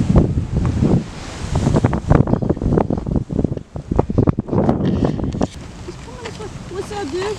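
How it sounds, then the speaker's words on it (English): Strong wind buffets the microphone in steady gusts, a rumbling roar that fills the whole clip with faint voices mixed in. "It is very windy."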